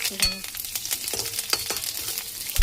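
Curry leaves and green chilies sizzle in hot oil, a dense close crackle broken by the clatter of a spoon stirring the pan.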